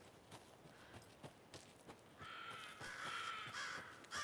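In the video game Alan Wake 2, crows give a couple of harsh caws, the second long and loud, over regular soft footstep thuds crossing the quiet scene.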